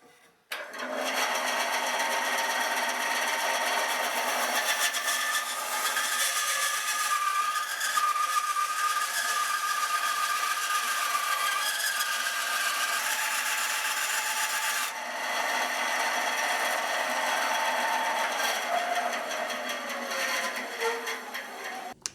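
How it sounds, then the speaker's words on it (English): A bandsaw cutting a wedge from the wooden body of a Les Paul Junior guitar, continuous loud whirring and rasping, steady for over twenty seconds with a slight change in tone midway. "then I'm going to take it to the bandsaw and cut off this wedge shaped bit here"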